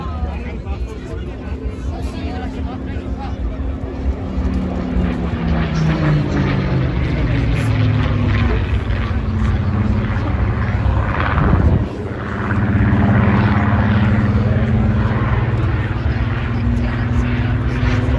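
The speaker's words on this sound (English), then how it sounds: "aircraft represents the heritage of the Spitfire and the Rolls-Royce engine that power them" Spitfire with a Rolls-Royce engine flying at the International Ayr Show in Scotland, a loud, droning propeller roar whose pitch slides as the fighter passes, with crowd chatter underneath.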